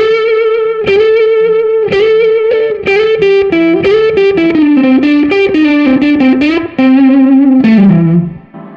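Electric guitar played with a slide, distorted and with effects, a sustained melodic line of gliding notes that rise and fall before settling low and fading out at the end.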